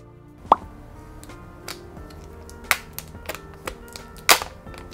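Unboxing of a Samsung Galaxy Z Fold 4 box in a studio: a few sharp plops and clicks as packaging is handled and pulled apart, close and quiet between the louder pops, no talking.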